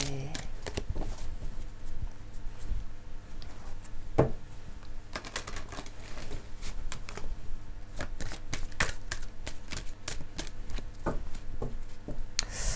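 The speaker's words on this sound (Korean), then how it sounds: "섞는데 제가 좀 오래 걸리죠?" Tarot cards are shuffled continuously at close range, giving a dense run of crisp riffling and slapping card sounds with brief soft pauses, fairly loud and without talk.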